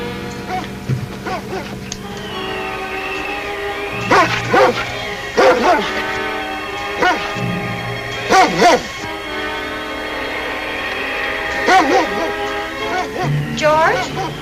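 Mountie's sled dog team barking in a 1950s radio drama set in the Yukon, several dogs yapping and whining in bursts, repeated barks rising over a sustained background sound.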